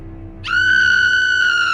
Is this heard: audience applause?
no